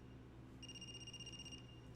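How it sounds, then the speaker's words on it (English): A faint electronic phone ring in a video game sounds as a steady high tone for about a second over a low constant hum, with no talk. "Is that a phone ringing?"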